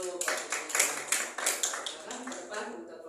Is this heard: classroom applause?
yes